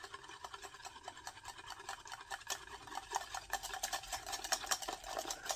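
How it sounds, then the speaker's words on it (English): A whisk scrapes and stirs steadily through a thickening cabbage casserole mixture in a bowl, producing a fast, continuous rhythmic rasping that grows slightly louder toward the end, with no talking. "Now take your whisk and you're going to mix it"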